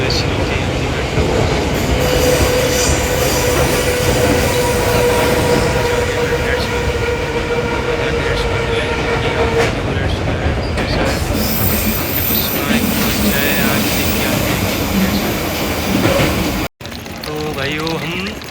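A Moscow metro train rolls along with a loud, continuous rumble and rattle, wheels clattering steadily before a sudden drop and a quieter stretch at the end.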